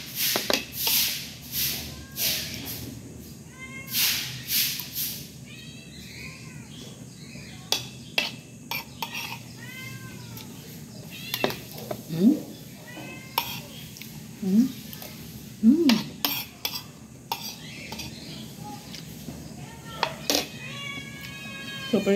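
Pet cats meow repeatedly, begging for food near a kitchen where milkfish paksiw is being cooked; the cries come in short, rising calls, some close and loud, with voices talking in between.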